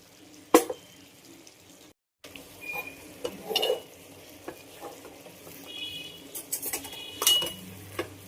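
Metal utensils clink and scrape against a cooking pot while ginger garlic paste goes into a vegetable pulao, with sharp clanks, a brief gap, then scattered stirring knocks and a faint sizzle close by.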